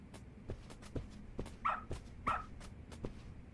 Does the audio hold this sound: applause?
no